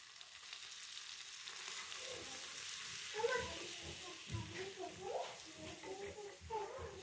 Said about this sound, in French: je vais le faire dorer en remuant